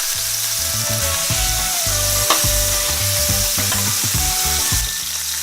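Beef short ribs searing in a hot pan, a dense, loud, continuous sizzle close to the microphone, with faint clinks and stirring under the frying and no talk.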